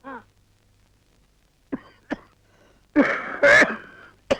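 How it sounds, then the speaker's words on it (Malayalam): A few sharp, irregular coughs and throat-clearing bursts, close and fairly loud, separated by short quiet gaps. "ചുമക്കാതെ കാര്യം പറയടാ"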